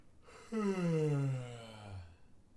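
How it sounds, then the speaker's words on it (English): A loud human yawn, a long voiced exhale that slides steadily downward in pitch and trails off over about two seconds, heard alone. "that was quite the loud yawn"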